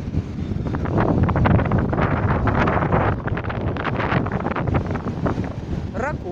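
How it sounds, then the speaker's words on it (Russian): A stormy sea off a beach in Nha Trang rumbles and crashes under strong, gusting wind buffeting the microphone, a loud continuous roar throughout. "потому что море разговаривает и рокочет"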